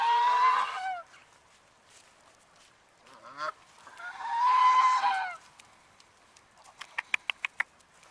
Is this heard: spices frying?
no